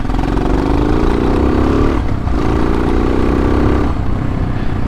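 A Hero Xpulse motorcycle with a rally kit and a 21-inch front tire rides off-road, its engine droning loud and steady with two rising revs and a short dip between them.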